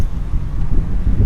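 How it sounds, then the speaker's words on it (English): Wind gusts on an outdoor seafront buffet the microphone, giving a steady low rumbling roar that swells and dips unevenly, with no voices. "it's getting a bit windy"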